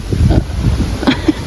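Outdoor wind buffets the microphone in uneven low rumbling gusts, loud and close, with brief bursts of noise rising and falling over a second or so.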